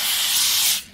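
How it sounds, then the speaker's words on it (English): A disinfectant spray fires at rats in a convenience store horror game, one loud steady hiss lasting most of a second before it cuts off abruptly, heard alone. "I'm gonna go spray some rats with disinfectant spray"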